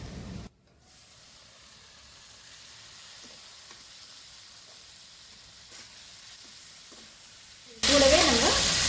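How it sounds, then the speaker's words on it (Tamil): Tomatoes tipped into a pan of golden fried onions for a thokku: a quiet low hum for several seconds, then a sudden loud burst of sizzling and hissing near the end. "இப்ப தக்காளி போட்டு வதக்கலாங்கம்மா."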